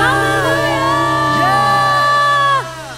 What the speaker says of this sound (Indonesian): kasih tepuk tangan sorakan